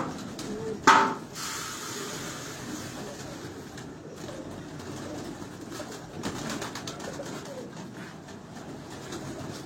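Pigeons coo softly on a Lahore rooftop where flying pigeons are kept, a low repeated cooing over outdoor ambience, with a sharp clatter early on and faint voices talking in the background.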